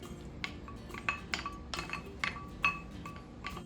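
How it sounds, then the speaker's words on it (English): Mushroom, onion and garlic mixture scraped from a pan into a bowl: a run of light metallic clinks and utensil scrapes against cookware, close and moderate, with no talking. "So I'm transferring my mushroom mixture into a bowl"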